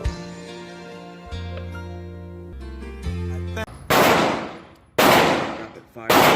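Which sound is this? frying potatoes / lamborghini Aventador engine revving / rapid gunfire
rapid gunfire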